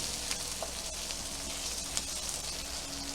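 Snow peas frying in hot oil in a pan, a steady dense sizzle with faint crackles and a few light stirring clicks throughout.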